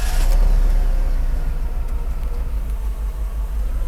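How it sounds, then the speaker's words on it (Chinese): Mercedes-Benz R129 500SL V8 running right after a fresh fuel distributor repair, with cylinders 1, 4, 6 and 7 misfiring; a steady, close, loud low rumble with a slight rough pulse throughout and no talk. "大哥来直接发动引擎"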